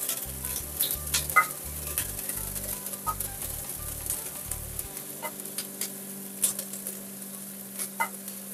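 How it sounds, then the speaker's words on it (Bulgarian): Chopped onion sizzles in hot oil in a pan while cooking ratatouille, a steady close crackling fry with brief stirring scrapes and some low clunks early on. "Наливам си малко мазнина и започвам първо с лука."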